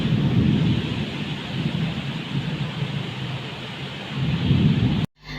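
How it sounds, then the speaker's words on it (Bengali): Steady heavy rain roars for several seconds, a dense wash of noise with no voices, cutting off abruptly near the end. "এর মধ্যে ঝমঝম বৃষ্টি দেখো আর শোনো"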